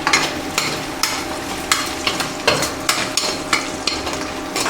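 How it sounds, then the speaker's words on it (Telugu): Curry leaves and mint deep-frying in a pan for a mutton curry give a steady, close sizzle, broken by regular bursts of stirring and scraping roughly every half second to second. "కొంచెం అట్లా డీప్ ఫ్రై అయ్యే వరకు వేయించుకోవాలి."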